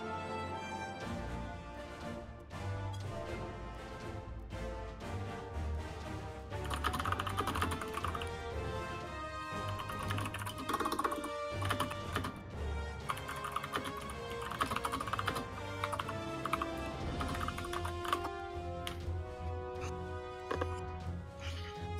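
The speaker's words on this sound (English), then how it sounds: "I have a lot of typing by Corey" Rapid typing on a computer keyboard clatters steadily in dense, uneven bursts of keystrokes, close and fairly loud, with no talk over it.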